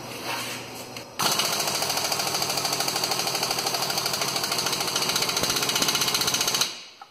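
A pneumatic impact wrench on its lowest setting, running in reverse with a 22 mm socket, loosening a bolt in the front wheel well of a 2010 Hyundai Accent: one loud, steady burst of rapid hammering that lasts about five seconds and then stops.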